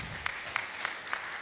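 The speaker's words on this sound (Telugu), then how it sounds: "చప్పట్లు" A handful of audience members at a Guru Purnima festival gathering clap in slow, evenly spaced single claps, about five sharp beats over a faint room background.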